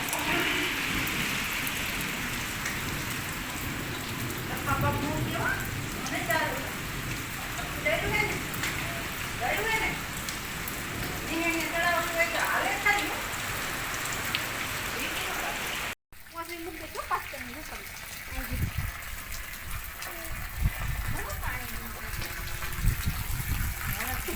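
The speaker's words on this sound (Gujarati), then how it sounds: "વરસાદ આવી ગયો છે" Heavy rain falls steadily as a broad hiss while people talk over it; the rain sounds closer and heavier in the final stretch.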